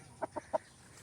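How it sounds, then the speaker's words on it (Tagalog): Chickens on a Philippine backyard farm give three short, moderately near clucks in quick succession, spaced apart against a quiet outdoor background. "Dito yung manok ni Chris now"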